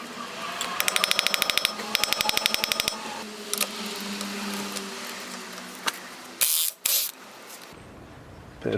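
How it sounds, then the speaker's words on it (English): A socket ratchet working on a car's CV joint gives two quick bursts of rapid, even clicking, followed by scattered metallic clanks and knocks nearby. "I use the socket to remove it"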